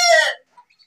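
An Aseel rooster lets out a short, loud crow that cuts off quickly, followed by a few faint, soft clucks in near silence.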